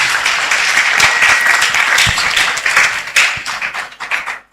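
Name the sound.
applause at primary school graduation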